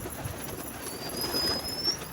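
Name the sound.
pigeons cooing after being let out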